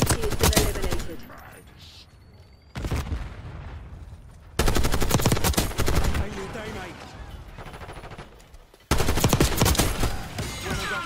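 Bursts of rapid automatic gunfire in Black Ops 6 multiplayer, loud and sustained, coming in several long volleys separated by short lulls.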